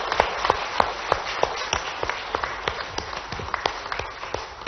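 An audience at a climate-week event in Mumbai claps to welcome the chief minister, with a string of sharp, distinct hand claps and steady applause underneath, fairly close and alone.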